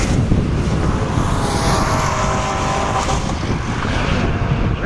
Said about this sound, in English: Rev limiter, Corvette.